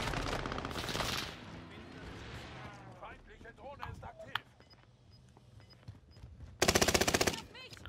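Automatic gunfire in Call of Duty Warzone on Rebirth Island rattles out in two sharp, rapid bursts, one at the start and a louder one near the end, with scattered shots and a player's voice talking in between.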